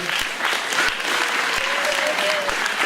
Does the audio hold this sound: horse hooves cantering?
no